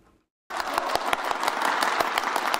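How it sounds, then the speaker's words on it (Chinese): Military officers in a meeting hall at a command center break into applause after a short silence, a warm, steady round of many hands with distinct individual claps standing out. "受到军官热烈掌声欢迎"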